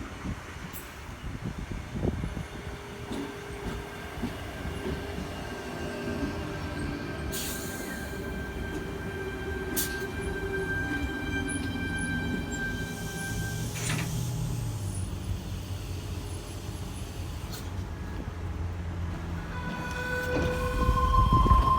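A Sydney Trains Hurstville service departs platform 1 at Mortdale station: a steady rail rumble swells as the train pulls away, with high wheel squeal tones and a door chime, moderately loud.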